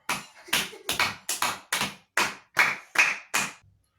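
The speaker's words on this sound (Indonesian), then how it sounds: "Kasih tepuk tangan dulu teman-teman." Classroom clapping during a maths lesson: about ten separate, evenly spaced sharp claps from a small group of students, close and loud, each one distinct rather than blended into applause, ending abruptly.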